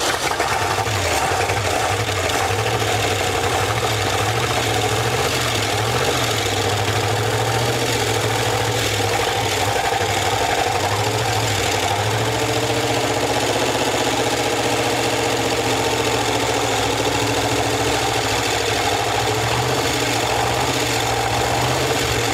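An old truck engine, abandoned in the woods for over 50 years, runs and idles after being cranked: a loud, steady, rough mechanical drone with a rhythmic knocking throb, close and continuous, no talking.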